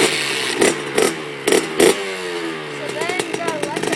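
Motorcycle engine idling roughly, then blipped in several sharp revs with clutch clatter as first gear is selected, close up, followed by a lighter whine; a person talks briefly around it.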